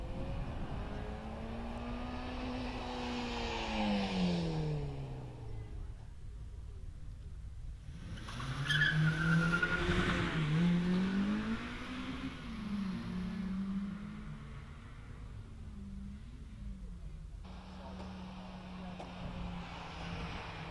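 A Mazda MX-5 races up the Prescott hillclimb, its engine revving and climbing through gears, swelling as it passes nearer and fading, beneath a commentator's running talk.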